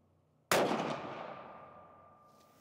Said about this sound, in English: Theoretically, we're gonna shoot one more time.